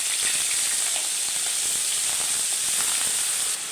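Onion paste goes into hot oil left over from frying fish, already holding cinnamon, cardamom and bay leaf, and hisses in a loud, steady, close sizzle that runs unbroken throughout.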